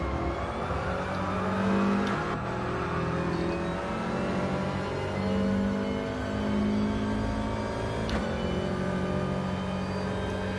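A Subaru race car engine in a racing game drones steadily while being short shifted, its tone holding at moderate revs with brief dips at each gear change and no voices over it.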